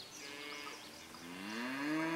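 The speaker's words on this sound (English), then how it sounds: "there's some of the cattle and a few horses" Free-roaming cattle low in open country, a drawn-out moo swelling louder toward the end over a faint outdoor background, with no voices.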